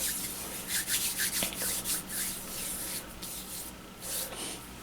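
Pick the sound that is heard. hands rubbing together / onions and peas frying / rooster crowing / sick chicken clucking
hands rubbing together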